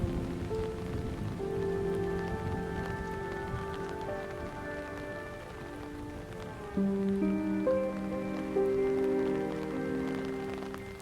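Steady rain falls throughout at an outdoor Filipino food festival, a constant patter under a layer of music and ambient tones, with no speech.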